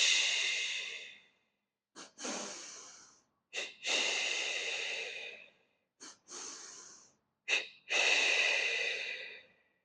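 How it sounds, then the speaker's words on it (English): Double-pump yoga breathing during a vinyasa flow: paired sharp nasal inhales followed by long, airy mouth exhales, repeated in three close rounds with short pauses between. "Double pump your breath 3 times. That's 2 inhales through your nose and 2 exhales through your mouth."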